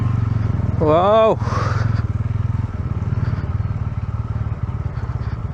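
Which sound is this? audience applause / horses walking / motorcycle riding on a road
motorcycle riding on a road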